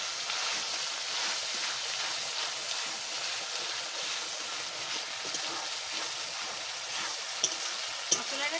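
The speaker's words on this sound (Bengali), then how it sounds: "মশলা একটু ভেজে দিচ্ছি" Masala with onion and garlic sizzles steadily in a pan for a pangasius fish curry, a continuous close frying hiss with light stirring and a couple of sharp clinks near the end.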